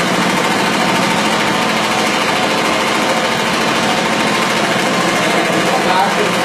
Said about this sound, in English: the agitation from the machine agitates the carpets upside down and beats out the grounded dirt that's been there for any number of years